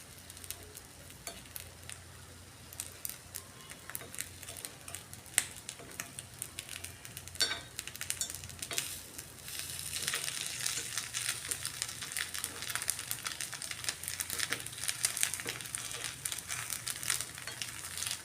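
Semiya egg paniyaram sizzles steadily in a pan after being flipped, a continuous frying crackle that grows denser and louder in the second half, with occasional small clicks.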